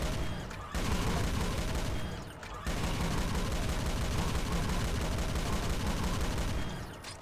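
Rapid gunfire rattles loud and nearly continuous in the classic shooter Doom, with two brief pauses between long, dense bursts of shots.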